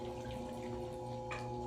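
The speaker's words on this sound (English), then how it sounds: "get a little bit more water." Water splashing and trickling onto clay on a pottery wheel during throwing, a soft steady wash of water over the low hum of the wheel, fairly quiet and close with no talking.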